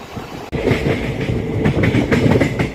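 The Guntur-Rayagada Express, a passenger train, rumbles steadily along the rails with a rhythmic clickety-clack of wheels over joints, heard from inside a coach, loud and continuous with no talk.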